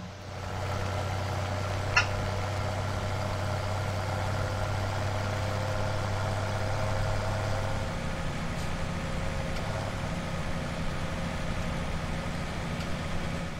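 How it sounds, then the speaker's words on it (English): A farm tractor engine runs with a steady low droning hum throughout, moderately loud and even, its pitch shifting slightly partway through, with no talking. "Tractor's got the horses."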